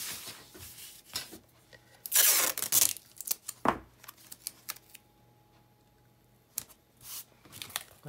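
Adhesive tape is pulled off a roll with a bright ripping burst and pressed onto paper during a Matisse-style April fool's fish paper craft, followed by softer crinkles and taps, close and fairly quiet.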